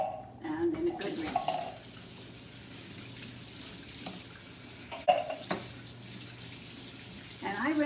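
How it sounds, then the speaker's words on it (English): Canned kidney beans rinsed under a running kitchen tap, a soft steady water rush with occasional clatter of the can or strainer, and a person talking at the start and end. "And I rinse them until it pretty well comes clear."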